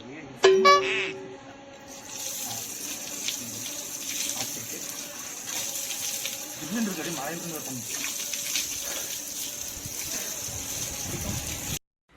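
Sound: cold water flowing down from the mountain

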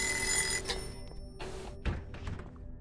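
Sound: alarm clock ringing in Obscuritas (video game)

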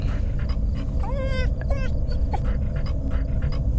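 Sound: dog panting and whimpering

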